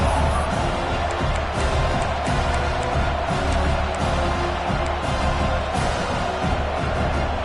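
A large stadium crowd at a football game roars and cheers continuously, a dense wash of voices with occasional sharp thuds, loud and sustained throughout.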